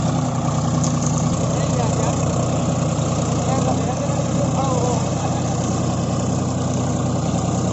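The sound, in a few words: John Deere 5050D tractor running in field in 2WD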